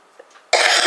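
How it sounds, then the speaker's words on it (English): A single harsh cough bursts out loudly and close after a brief quiet lead-in, with a rough, breathy tail lasting about half a second. "Excuse me, I still have this cough."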